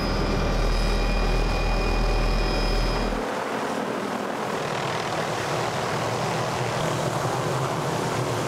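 Loud helicopter engine and rotor drone, from a helicopter flying in cave-diving equipment near Nelson, New Zealand, with a high whine that cuts out after a few seconds, leaving a steady roaring rumble.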